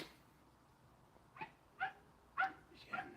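Several short, soft dog yips or whimpers in a quiet indoor room, coming in four separate bursts over the second half, fairly close but not loud.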